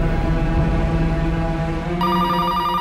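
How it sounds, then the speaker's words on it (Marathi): A telephone rings late at night, a steady electronic ring repeating over a dense musical bed, with the tone switching to a brighter, higher ringing partway through. "एवढ्या रात्री कोण फोन करते?"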